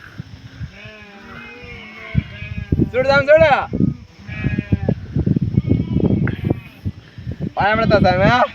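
Sheep bleat loudly nearby in a few separate wavering calls, mixed with rustling and people talking close by.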